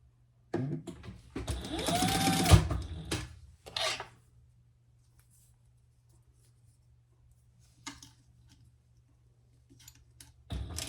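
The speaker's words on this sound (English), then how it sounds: "I'm just going to do a little basting stitch to keep those nice and flat connected." Sewing machine running a basting stitch on fabric for a crossbody belt bag, a loud two-second run followed by a short burst, then quiet with scattered faint clicks and a final brief start.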